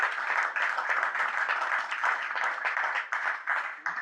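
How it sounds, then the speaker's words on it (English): Sustained applause from a seated audience at a community food planning meeting, a dense, steady wash of many hands clapping for about four seconds with no voices over it. "we ought to give Troy a round of applause"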